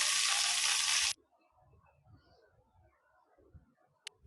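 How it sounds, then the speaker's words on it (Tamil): Brinjal pieces sauté in oil, a loud, close hiss of frying for about a second that cuts off abruptly, followed by near quiet with faint low knocks and a brief click. "எண்ணெயிலே கத்திரிக்காய் வேகிற அளவுக்கு நல்லா புரட்டி விட்டுக்கலாம்"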